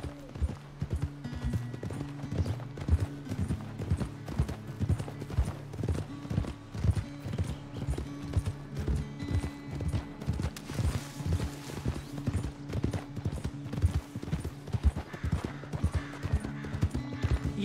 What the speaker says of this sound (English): Must be a lot of fun riding horses like out in the open